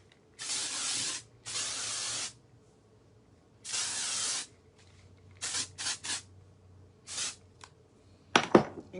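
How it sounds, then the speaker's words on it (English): Texturizing hair spray hisses from an aerosol can in several bursts, some long and steady, others short and quick, close and fairly loud against a quiet room. "And then I'll use my texturizing spray,"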